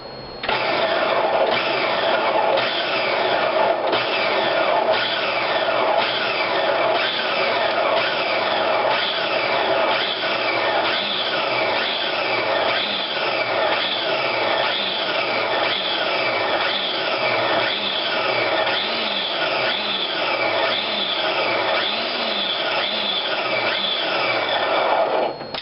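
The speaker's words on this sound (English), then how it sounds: "Now the reason for me pulsing it, as you can see in the food processor, is to give it a little bit of texture" A food processor pulses black beans and vegetables in a long run of short, evenly spaced whirring bursts. The motor is loud and close, with no talk over it.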